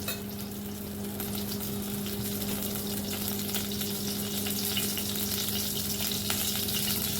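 Oil heating in a kadai for dabeli gives off a steady, even sizzle with a faint electrical hum beneath it, close by and continuous throughout.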